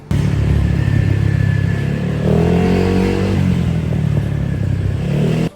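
A scooter engine drones and revs steadily while riding through busy Bangkok traffic, with a loud, continuous mid-range hum that shifts pitch as it accelerates, then cuts off abruptly at the end.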